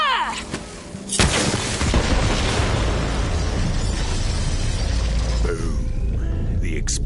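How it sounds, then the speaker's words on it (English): A bomb explodes in the video game Brawl Stars with a sharp, loud burst, then a long rolling rumble and scattered debris crackle that fades slowly. "The explosion echoed through the forest"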